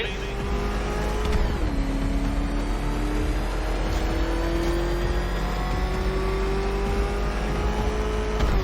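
Batmobile engine in Batman Arkham Knight roaring steadily as the car drives, a sustained loud motor tone that dips and then climbs again like a gear change, with faint voice underneath.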